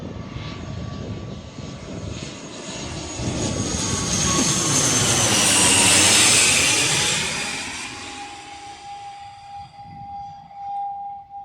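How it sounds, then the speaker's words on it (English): A jet airliner roars loudly overhead while landing near Birmingham Airport, the broad engine noise swelling to a peak mid-pass with a sweeping whine, then fading as a steady high tone lingers. "It sounded more of a jet plane."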